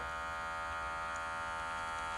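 An electric hair trimmer runs continuously, shaving leg hair with a steady, close, loud buzzing hum and no talking.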